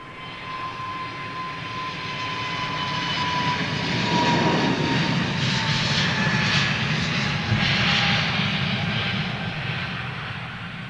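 Airbus A330 jet airliner at Heathrow Airport, a broad engine roar swelling steadily from a distance to a loud peak mid-pass and then slowly easing away, no voices over it.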